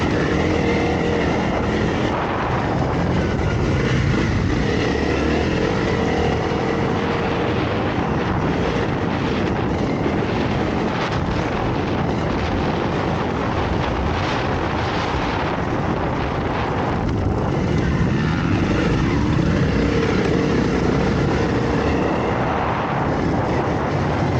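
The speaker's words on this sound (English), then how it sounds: "riding a rally bike on a moto track" Rally-style Honda CRF dirt bike riding on a motocross track with ruts, its engine a loud, continuous roar with shifting revs throughout, heard close with wind noise and no talk.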